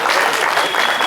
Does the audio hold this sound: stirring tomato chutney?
no